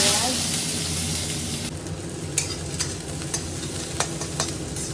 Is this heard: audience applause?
no